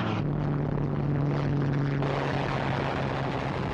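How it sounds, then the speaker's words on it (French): Propeller aircraft of the Second World War, American planes such as Brewster Buffalo fighters, flying over Midway island, a steady loud engine drone with a sustained low hum throughout, no speech. "Les avions américains présents sur la base viennent à leur rencontre."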